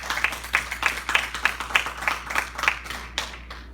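A church congregation at a Spanish-language sermon claps in a rhythmic, fairly even beat, moderately distant, with the clapping thinning out near the end.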